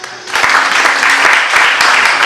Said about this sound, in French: On peut applaudir un peu plus fort.